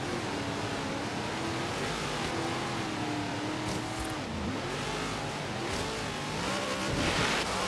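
A car engine in the racing game Forza Horizon 3 drones loudly and continuously during a race on a frozen lake, its pitch rising and falling with gear changes and acceleration, with a brief tire squeal.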